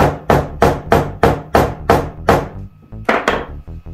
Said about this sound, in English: we use a nylon, not a metal hammer